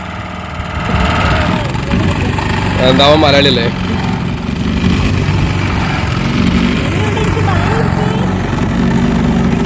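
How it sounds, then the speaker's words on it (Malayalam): A motor boat engine idles and chugs steadily at close range, a loud, even mechanical drone that runs throughout while someone speaks over it briefly, near an island in Kollam, Kerala. "തോണിയല്ല മോട്ടോർ തോണി തന്നെയാണ് കേട്ടോ."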